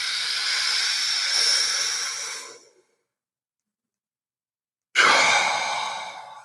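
A long, breathy exhale after a deep inhale during hyperventilation breathing exercises, a loud close airy rush that fades out, then silence before another strong breath starts.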